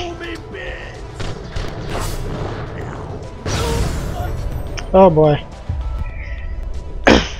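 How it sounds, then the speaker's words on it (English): An explosion from the video game Borderlands: The Pre-Sequel erupts as a loud, broad blast midway through, set among other gunfire and combat thuds, with someone talking briefly over the game. "And the explosion got me,"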